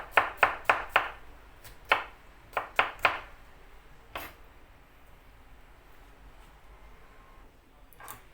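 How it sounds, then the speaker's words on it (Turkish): Sharp knife chops on a cutting board while cutting Turkish shepherd's salad vegetables, a quick burst of four, then scattered single and paired strikes before fading into quiet room tone. "Salataları doğradım bakın."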